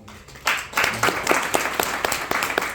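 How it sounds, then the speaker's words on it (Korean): Applause from a congregation at a church worship service marking the March 1st Movement: a dense patter of many hands clapping fills the room after a brief quiet start and continues steadily at moderate volume. "또 한 번 박수 칩시다."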